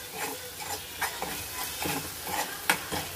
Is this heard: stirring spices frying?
yes